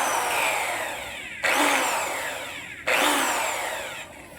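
An angle grinder buffs a metal gate, its steady high-pitched whine grinding on and surging anew twice as the pad presses back onto the metal, loud and close with no talk.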